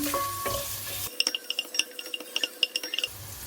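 Onion fries for chicken tinola while a metal utensil taps and scrapes rapidly against the pan in a busy clattering run. A frying hiss sits at the start and end, and no one talks.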